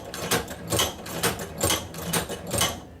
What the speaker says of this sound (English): Then we'll go ahead and continue sewing.